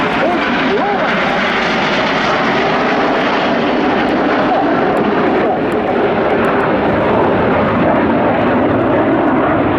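Red Arrows jet aircraft flying a formation display at RIAT 2025 produce a loud, continuous roaring engine noise that holds steady throughout.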